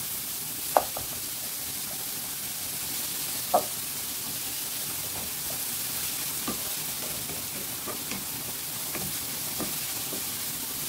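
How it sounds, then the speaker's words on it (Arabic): Salted greens are stirred in a pan until they wilt, for a quick pasta dinner. A steady soft sizzle hisses throughout, broken by occasional light scrapes and clicks of the spoon, with no voices. "ونبقى نحرك حتى تهبط"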